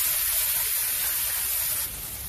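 Mustard seeds and cumin sizzle in hot oil in a pan, a loud continuous spitting hiss that eases slightly toward the end, with no voices.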